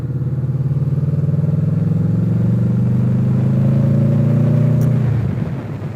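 Motorcycle engine humming steadily while riding in Gatlinburg, Tennessee, a loud close droning rumble at a constant pitch that drops and fades in the last second, no talking.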